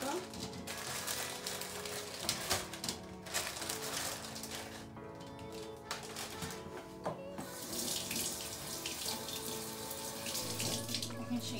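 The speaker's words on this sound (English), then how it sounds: "You're gonna put them here so you can wash them." Tap water runs steadily into a sink as grapes are washed in a culinary class, a quiet continuous splashing stream with faint voices in the background.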